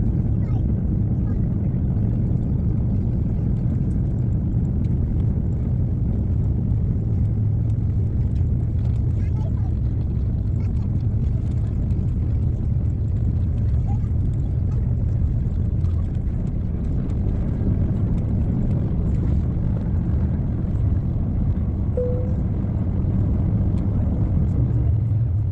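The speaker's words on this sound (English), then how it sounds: "let's allow the mighty Rolls-Royce engines to do the talking for us" Rolls-Royce engines on an Air Canada airliner departing Bogotá roar in a dense, steady low rumble during takeoff and climb, heard continuously from inside the cabin with no letup.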